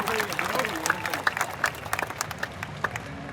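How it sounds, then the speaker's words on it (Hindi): Gathered audience at a wellness business event claps for an honored mentor, with scattered hand claps sounding under a voice speaking over the crowd. "हमारे महागुरु मिस्टर शिव कुमार सर के लिए भी एक जोरदार तालियां होनी चाहिए।"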